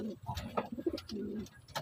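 Racing pigeons, including a blue bar, coo in soft, throaty bursts, close and repeated, with a faint chirp or two among them.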